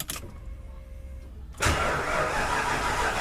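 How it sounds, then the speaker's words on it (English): A Ford Mustang engine cranks over on its starter and then catches into a loud, steady running roar that sustains to the end. A quieter background hum comes before it. "Okay guys, I finally got it to crank over."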